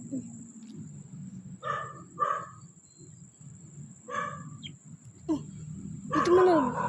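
Dogs bark in a few short bursts at a cemetery at night, mid-distance, with people talking quietly nearby and a steady high electrical whine throughout.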